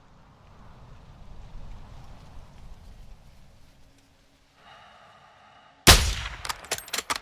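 Sniper rifle fire in Call of Duty MW2 (2022), Recon By Fire mission in Spain, with one sharp, loud crack near the end followed by a few quick rattling echoes after a stretch of low ambience.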